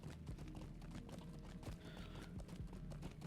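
Horse mount hooves in the online role-playing game Lord of the Rings Online, a steady clip-clop of hoofbeats trotting continuously over a dense game soundscape.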